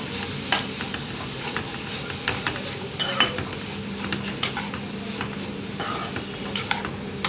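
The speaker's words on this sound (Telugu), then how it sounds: "అలా బాగా గరిటె పెట్టి కలుపుతూ మొత్తం ముక్కలకి మొత్తం పట్టిన తర్వాత" A ladle stirs ridge gourd curry in a hot pan, with steady sizzling and frying underneath repeated scraping clinks and knocks against the metal, close and continuous with no voices.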